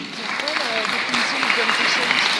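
An audience applauds the participants of a jazz jam session, a continuous patter of clapping heard under a speaking voice.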